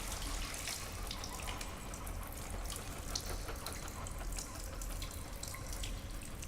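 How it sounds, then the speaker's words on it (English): Water runs continuously from an overflowing sink in the video game Stasis, a steady, fairly quiet splashing like a running tap, with no pauses and no voices. "Liquid from the overflowing sink has splashed onto the floor, pooling onto the polished floor."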